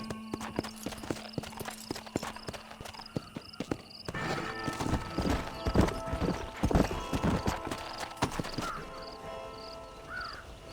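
A horse gallops in the Western video game Red Dead Redemption, its hooves clopping steadily and growing denser and louder midway, while crows caw and birds call in the background.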